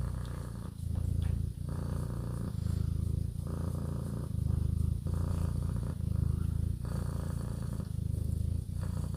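A cat purrs close up in a steady, rumbling rhythm, each breath-pulse repeating evenly for several seconds with no other sounds.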